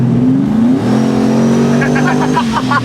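Heavy supercharged pickup truck of about 7,000 pounds on heavy tires accelerating hard, its loud engine note rising through the gears with a whining, revving roar close by.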